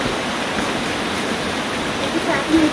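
Taytay Falls waterfall pouring steadily as a broad, constant rush of water, close and fairly loud, with faint voices underneath and a brief bump near the end.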